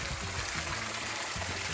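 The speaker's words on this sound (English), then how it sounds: "It's a little creek crossing" A small creek at a stream crossing, flowing with a steady broadband rush and trickle, close and continuous, no voices.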